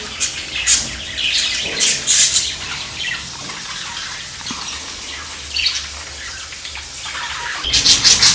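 Bursts of high, sharp chirps come from several small lovebirds, repeating irregularly over a soft hiss of background noise.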